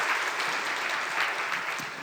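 An audience applauds at a tech conference talk, a dense, steady crowd clapping that fills the whole moment and tapers slightly at the end.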